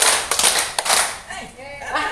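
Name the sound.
clapping three times in a clapping game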